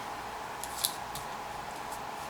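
A tiny pair of scissors trimming card paper, a few quick light snips over a steady background hiss, close but soft.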